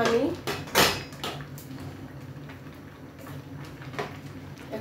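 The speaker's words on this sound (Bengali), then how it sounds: "আমি এখানে ডেকচি বসাই দিছি, চুলাটা কমাই দিই।" In a home kitchen during fish masala cooking, a metal cooking pot is set down on the stove with a sharp clank, followed by lighter metallic knocks and clatter under a woman's speech.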